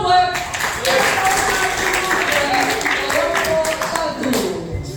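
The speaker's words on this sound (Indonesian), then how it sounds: "Tepuk tangan dulu buat kelompok" Students in a classroom clap for a presentation group, a brisk burst of many hands that stays steady for several seconds under some background voices.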